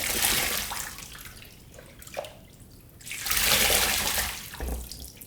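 Running water splashes over and through a disassembled trumpet being rinsed, pouring in two loud bursts with quieter trickling and drips between them, close by with no talking.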